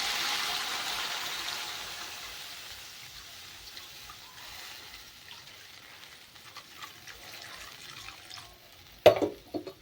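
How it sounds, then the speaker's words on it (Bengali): Water goes into a pan of spiced rohu fish curry with a little chilli powder, a soft continuous pouring wash that fades gradually, then a sharp clatter near the end, close and without talk. "এবার এর ভেতরে জল দিয়ে দেবো"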